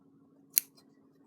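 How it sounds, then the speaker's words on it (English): A single sharp scissor snip clips the fabric curves of a Tilda dachshund stuffed toy, close and clear in a quiet room, with a faint trailing sound. "you should probably use small scissors for this"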